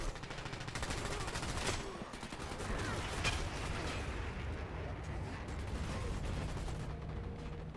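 Sustained gunfire and explosions in the online shooter game Dirty Bomb, dense and continuous across the whole stretch, loud and close with a broad rumbling texture.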